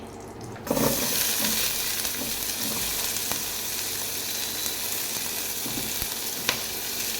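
Onions drop into hot ghee in a pan for a paneer curry and burst into a loud, steady sizzle that stays even and continuous throughout, with no talking.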